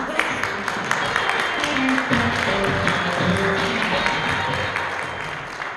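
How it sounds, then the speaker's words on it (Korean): Audience applause welcoming Lenovo Korea's CEO to the stage at a Yoga Book C930 media showcase, a steady wash of clapping with a voice speaking over it. "큰 박수로 맞이해 주시기 바랍니다."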